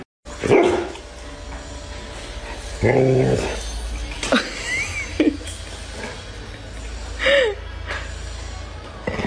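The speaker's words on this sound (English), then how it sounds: "here's my crazy rescue dog" A rescue dog barks several times in scattered bursts at the beach, close and loud, mixed with excited whines over steady outdoor background noise.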